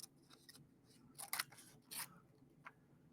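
Scissors cutting heat transfer vinyl, heard as a few quiet, crisp snips close by, clustered in the middle with one more soft snip near the end, in an otherwise hushed room.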